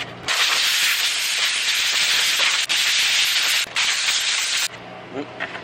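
Baking soda blasting on a 1973 Baja Beetle body during restoration prep, a loud, close, continuous hiss of blasting media with two short breaks, cutting off near the end before quieter handling noises.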